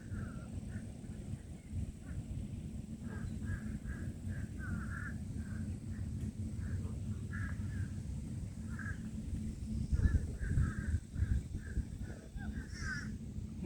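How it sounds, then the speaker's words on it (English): Geese call repeatedly by a pond in Honor Heights Park, a scattered series of short harsh honks at moderate distance over a low continuous background rumble. "Have some more geese over here."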